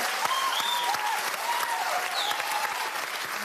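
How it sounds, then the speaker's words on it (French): Audience applause fills the room in a sustained, dense patter of many hands clapping, with a few whistles rising above it, steady throughout. "Je m'applaudis."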